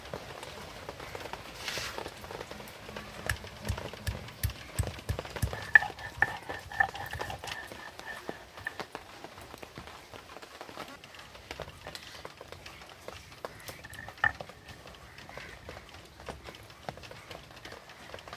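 Ginger and cumin are ground into a paste on a grinding stone in a home kitchen. Irregular scraping and knocking strokes repeat close by, with a voice speaking intermittently over the grinding.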